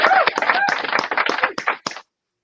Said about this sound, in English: Let me clap you in here.